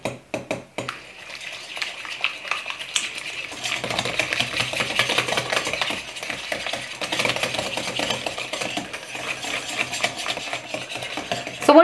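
Honey and butter are creamed with eggs and vanilla for gluten-free apple muffin batter, a steady whirring mixer drone with a clatter of bowl and utensil at the start and end.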